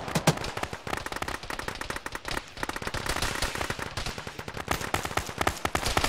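Dense, rapid gunfire from a military shooter game, automatic bursts crackling nearly nonstop and loud throughout, with brief lulls between volleys.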